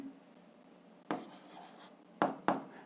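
A pen scratches out a math solution by hand, with faint continuous scribbling and three sharp taps as strokes begin, close and quiet.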